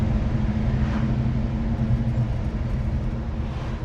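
A 1964 Chevrolet Nova II with a 327 V8 on the move, heard from inside as a steady, loud low rumble and road drone, unbroken and with no talk.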